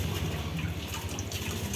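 A river flowing behind a house in a cool spot under bamboo trees, heard as a steady, dense wash of running water that stays fairly constant and fills the whole stretch with no voices.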